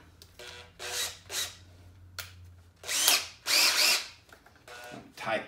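An old power drill whirs in short, uneven bursts, some brief and others longer and louder, with pauses between, close by, while installing valve springs on LSX cylinder heads.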